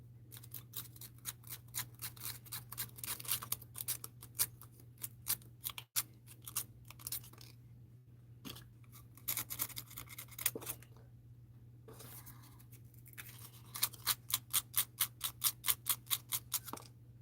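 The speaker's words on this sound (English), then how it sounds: "So I have to use the sandpaper on that." Copper earring wire is rubbed with sandpaper, producing quiet, rapid, rhythmic scratching strokes in bursts with short pauses, over a steady low hum.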